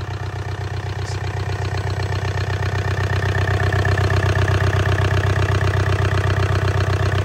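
A Yanmar 4TNV88 diesel engine runs at a steady idle up close, a loud, even low-pitched throb with a regular pulsing beat that builds slightly and holds constant throughout, with no talking.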